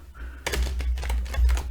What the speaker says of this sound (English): I'm shuffling it right now